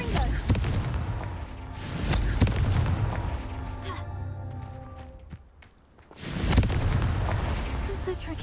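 A Confringo explosion spell goes off in Hogwarts Legacy, a booming blast with a rumbling tail, followed a few seconds later by a second loud burst amid dense game effects.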